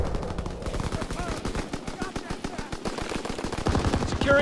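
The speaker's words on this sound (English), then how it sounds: "I'm getting the LMG out" Light machine gun fire in the Call of Duty WWII multiplayer map Groesten Haus, a loud sustained automatic burst of rapid, evenly spaced shots running through the whole stretch with a little game noise underneath.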